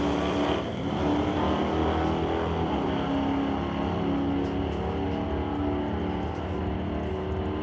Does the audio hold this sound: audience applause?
no